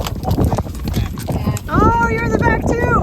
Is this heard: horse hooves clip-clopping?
yes